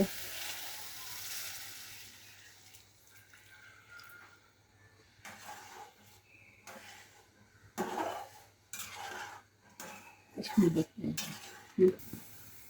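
Taro stolons are stirred in a pot with the lid lifted, giving a few scraping, sizzling strokes and light clinks of a utensil against the pot over a low steady kitchen hum. The strokes come in short, uneven bursts and grow louder toward the end.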